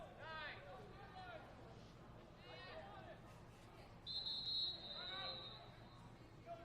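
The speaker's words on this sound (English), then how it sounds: "Whistle sounds." A referee blows one sustained whistle blast partway through a college lacrosse conference tournament game. It cuts over steady crowd murmur and ongoing commentary.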